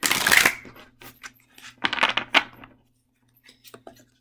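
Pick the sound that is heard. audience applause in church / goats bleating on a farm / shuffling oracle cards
shuffling oracle cards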